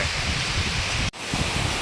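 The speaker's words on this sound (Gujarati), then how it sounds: "હવે વરસાદ ફૂલ આવવા લાગ્યો તો હવે ઘરે નહીં જવાય" Heavy rain pouring down outdoors with wind, a dense, constant hiss close by and with no voices.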